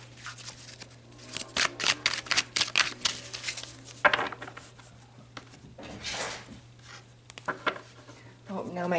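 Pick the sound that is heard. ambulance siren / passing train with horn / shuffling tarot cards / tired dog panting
shuffling tarot cards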